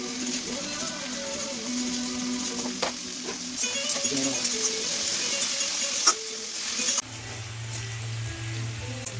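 Potatoes fry in a pan with salt and turmeric, a steady close hiss of sizzling oil with occasional clinks and stirring scrapes, and a low hum joins in near the end.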